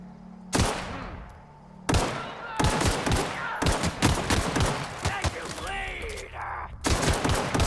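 Player's gun firing in The Outer Worlds, a run of sharp, loud shots in quick bursts separated by short pauses, with a couple of isolated shots at the start and end.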